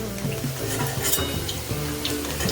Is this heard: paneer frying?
yes